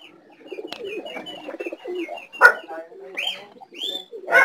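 Pigeon hen from a racing bloodline cooing inside a loft, several soft rolling coos with chirps and wing rustles nearby, close and moderately loud.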